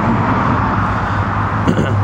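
Dense car traffic on a major road behind a backyard, a constant close roadway roar with a brief louder bump near the end.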